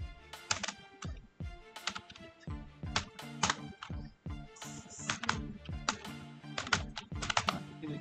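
Keystrokes on a computer keyboard entering text during Photoshop design work, a brisk, irregular run of close, crisp clicks and clacks with short pauses between bursts.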